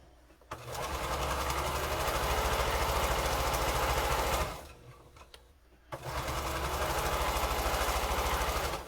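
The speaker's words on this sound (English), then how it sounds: "I'm going to sew down that straight seam" Sewing machine stitching a straight seam through quilt fabric, running loud and steady in two long bursts with a brief pause between them, no talking.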